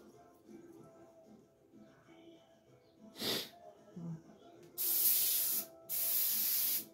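An airbrush sprays brush cleaner to dissolve and flush out paint, with two loud, sustained hissing bursts of about a second each near the end, after a brief sharp puff and quiet handling sounds.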